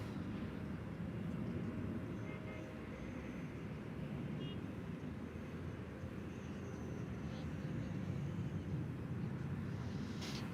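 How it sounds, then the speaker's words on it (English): An American Airlines Airbus A321 taxiing at DFW Airport at night makes a steady low engine rumble and broad roar that holds fairly evenly throughout, with distant traffic-like noise mixed in and no clear voices. "It's an Airbus A321 on Runway DFW."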